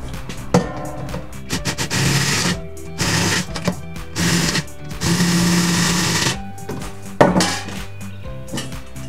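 A drill bores holes for binding posts in the casing of a homemade smoke machine, with loud whining bursts of several seconds each, broken by short pauses and a few clanks, close up.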